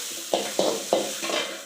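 Onion, tomato and ginger frying in a little oil over a wood-fired stove, with three quick scraping stirs through the sizzling mixture followed by a softer fourth stroke.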